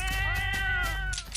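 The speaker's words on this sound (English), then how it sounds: "Cat, stop running away." A cat in the S.T.A.L.K.E.R. video game gives one drawn-out, close meow that wavers briefly before trailing off, with no talk.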